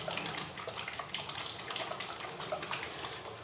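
A bottle of neem oil is shaken before mixing, giving a continuous close sloshing and gushing of liquid with no pauses and no talking.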